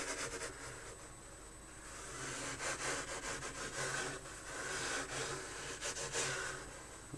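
Grout is sprinkled over a 1/35 scale European tram base model and rubbed in by hand, giving a steady, soft, gritty scraping and brushing texture that continues close and moderately loud throughout, with no talking.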